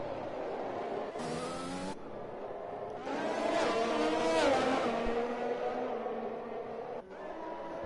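Race cars in an F1 video game whine steadily around the track, engine pitch climbing and falling as cars pass, with no voices over them.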